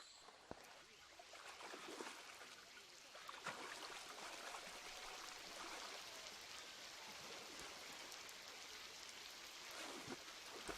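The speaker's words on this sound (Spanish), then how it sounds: "el sol de hace unos minutos ha dado paso a una tormenta" Rain from a storm falling over a river in a mountain rainforest, a dense steady hiss with scattered drops and splashes, moderately faint and continuous throughout.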